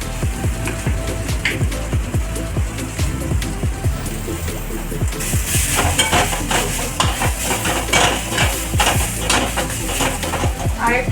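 Red amaranth greens frying in a pan with poppy seeds and mustard oil, stirred vigorously, giving repeated scraping clatters over a soft sizzle, close and fairly loud.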